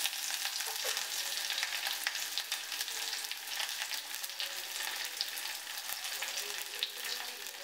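Ginger, garlic, sliced shallots, slit green chilies and curry leaves frying in oil for a simple Kerala lunch, a steady close sizzle with crackling pops and occasional stirring, no voices.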